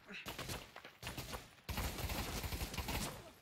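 Rapid automatic gunfire in the Pavlov VR shooter, dense close bursts that grow louder and continuous toward the end, with voices talking underneath.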